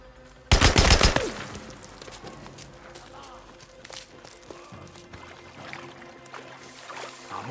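A short, loud burst of automatic gunfire as covering fire in Days Gone, followed by scattered fainter shots and impacts, with voices speaking at times.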